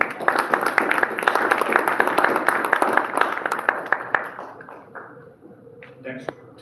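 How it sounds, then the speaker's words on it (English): Audience applause at a university discussion with authors, dense steady clapping for about four seconds that thins out and fades toward the end. "Please give him a warm round of applause."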